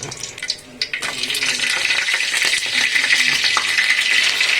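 Mustard seeds and tomato fry in a hot pan, a steady close sizzle with crackling pops that starts after a few clanks and rattles and then holds.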